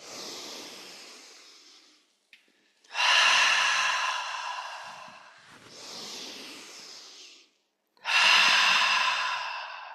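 Slow, deep breathing during a guided breathing exercise: long, loud inhales and exhales close to the microphone, alternating with brief pauses, in a quiet room.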